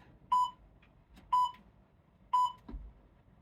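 A workout interval timer beeps three times, roughly one second apart, sharp and electronic over a quiet room background.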